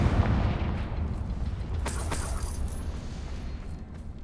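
Confringo blasting curse going off in Hogwarts Legacy, a deep booming explosion that rolls on with a sharp crackling burst midway, loud and up close, no voices.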